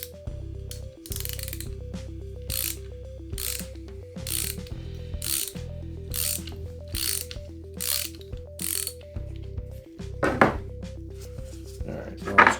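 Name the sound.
wrench loosening a cutter tool nut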